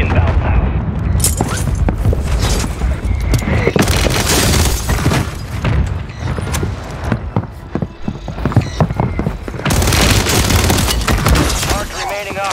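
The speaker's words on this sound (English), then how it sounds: "Mortar strike inbound now" Mortar strike explosions in Warzone 3 thunder as a run of heavy booms and blasts mixed with gunfire and game noise, loud and continuous, with voices talking over them.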